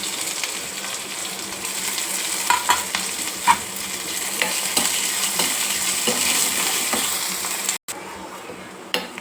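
Sliced onion frying in a pan with mustard seeds and cumin makes a continuous sizzle, broken by repeated stirring scrapes and a few sharp utensil clinks against the pan, with no one talking.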